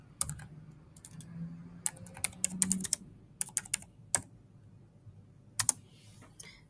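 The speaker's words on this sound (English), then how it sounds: "to start typing, you would just double click inside the text box and type away" Someone types on a computer keyboard in a quiet room, with sparse, irregular clicks and short bursts of keystrokes separated by pauses, close and fairly soft.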